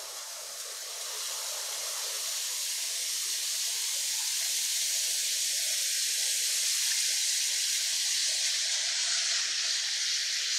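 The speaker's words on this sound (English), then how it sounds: "we've got us a pan heating up over a medium-high heat, and to this we're going to add in our ground beef" Ground beef sizzling in a pan over medium-high heat, a steady broadband hiss that swells in the first second and then holds constant and fairly loud, with no talking.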